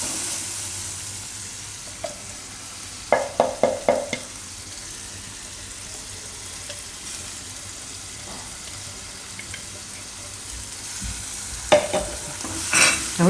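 Tomato puree with chili being stirred in a pan over a low, steady sizzle, with a quick cluster of sharp spoon clinks against the pan early on and more scrapes and taps later, no voices.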